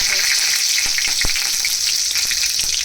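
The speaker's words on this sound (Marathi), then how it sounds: "मोहरीला छान फोडणी दिली गेली की त्याच्यामध्येच कढीपत्ता जो आहे तो फोडणीमध्ये टाकायचा" Curry leaves crackle and sizzle in hot oil with mustard seeds for a tempering, a dense continuous frying hiss with a few sharp pops, close and loud with no talking.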